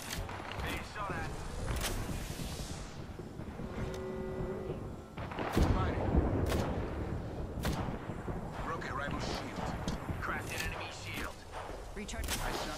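Gunfire in Apex Legends: repeated sharp bursts of weapon shots, some close and loud and others farther off, scattered among mechanical clicks and reloads, with a voice talking over the action.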